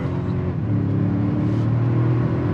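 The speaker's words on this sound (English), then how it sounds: "Took it a second there, spinning the wheels." 2023 Toyota Sequoia TRD Pro accelerating hard from a stop with its wheels spinning, giving a steady loud engine roar and rumble heard from inside the vehicle.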